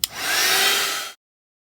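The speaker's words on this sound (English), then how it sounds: "And then get the dryer and blow it around as well." A hair dryer blows air across wet watercolour paint, a steady loud whooshing hiss that starts with a click and cuts off abruptly after about a second, with no talk.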